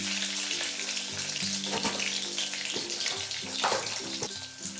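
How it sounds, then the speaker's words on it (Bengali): Potatoes frying in a generous amount of oil for chicken kosa, a steady close sizzling hiss that runs throughout with soft crackles, over faint background tones. "এরপর ব্রাউন করে আলুগুলো ভেজে নিচ্ছি।"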